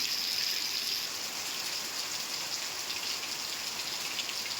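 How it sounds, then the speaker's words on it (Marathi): Heavy pre-monsoon rain showers in south Ratnagiri, a steady hiss of rain falling on surfaces, fairly soft and unbroken throughout. "सोबतच दक्षिण रत्नागिरीमध्ये सुद्धा मान्सून पूर्व पावसाच्या दमदार सरी बघायला मिळाल्या।"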